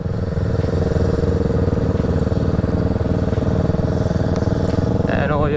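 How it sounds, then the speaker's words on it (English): Kawasaki Z650 motorcycle riding on a morning ghat road, its steady engine drone loud and continuous throughout under wind rush, with a brief rising tone near the end. "over here this is Rohit on its Z650 Kawasaki"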